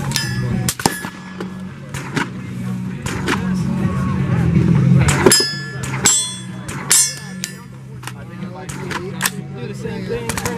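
Several sharp cracks of suppressed gunshots with metallic blowback clangs, spread irregularly across the stretch over a steady low hum, fairly close and loud, with someone talking between shots.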